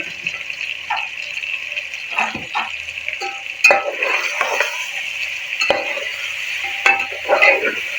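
Chopped tomatoes and green chillies fry with mutton in a pot, a steady close sizzle broken by repeated scraping strokes of a stirring spoon.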